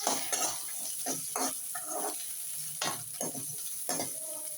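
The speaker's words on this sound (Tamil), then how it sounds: "இப்போ வதக்கிக்கலாம்." Onions sautéing in a pan under a steady faint sizzle, punctuated by irregular scraping stirs and soft utensil clinks, close but fairly quiet with no speech.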